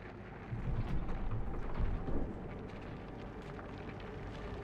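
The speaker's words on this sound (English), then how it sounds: "Keep an eye on that storm" Low rumbling thunderstorm in the video game Fort Solis, a faint steady roar of wind and rain with a soft swell of thunder early on, no voices.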